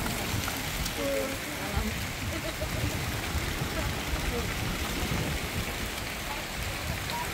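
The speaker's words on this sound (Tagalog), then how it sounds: "Ang lakas ng ulan kaya ayan." Heavy rain at a beach in Sanchez Mira, Cagayan, pours in a dense, continuous hiss close by, with faint voices in the background.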